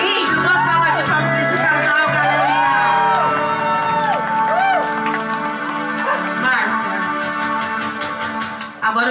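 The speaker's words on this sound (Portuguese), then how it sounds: "Uma salva de palmas desse casal, galera!" Lively cheering, whoops and clapping from a small group celebrating a couple at a wife's birthday surprise in São Paulo's east side, mixed with music and excited shouting throughout.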